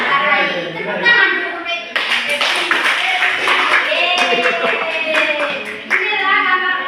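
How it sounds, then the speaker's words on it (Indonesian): A primary school social studies class claps hands together in a classroom, a burst of rhythmic clapping mixed with children's voices and a teacher speaking over and after it. "Tepuk tangan"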